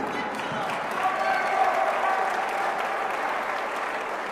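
Spectators at the 2016 JOOLA North American Teams Championships table tennis final give a warm, steady round of applause for the anthem singer, a continuous wash of clapping that swells slightly midway, with faint voices underneath.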